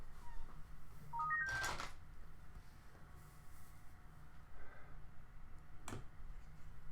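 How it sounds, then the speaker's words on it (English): A short rising series of electronic notification tones chimes from a phone, followed by a sharp click and a later tap against quiet room noise. "Hold on a second, I got a text message."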